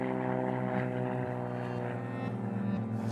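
A mail plane arriving at a remote airfield near Alice Springs, its propeller engine droning steadily with a dense, rich hum, fairly close and continuous, with no talking over it.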